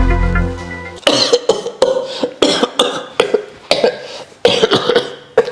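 A long fit of harsh, repeated coughing, close and loud, comes in a rapid series of about a dozen bursts after a short low throat sound at the start.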